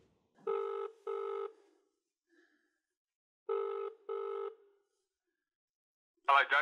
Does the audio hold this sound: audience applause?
no